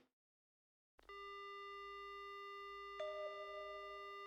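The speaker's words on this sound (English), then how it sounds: "The only sound I hear is a dial tone." A steady telephone dial tone in the video game Death Mark, a sustained multi-harmonic hum beginning abruptly after a second of silence and holding unbroken, with a slight shift in tone partway through and no talking.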